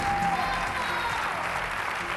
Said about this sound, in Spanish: Un fuerte aplauso para Dani Mateo.